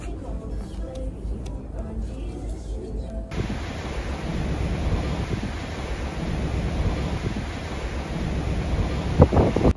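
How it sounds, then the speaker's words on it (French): Strong wind and rushing waves on a ferry crossing to the Faroe Islands, a loud, continuous roar of buffeting air and surf heard close on deck, with talking earlier in the clip. "Il y a comme un léger vent sur le bateau."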